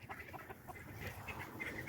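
Chicken squawking after being accidentally stepped on, a short burst of agitated clucks and squawks, close and moderately loud, with scattered bird calls over the whole moment.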